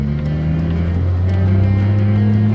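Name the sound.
Datsun 240Z 1973 engine pulling through the revs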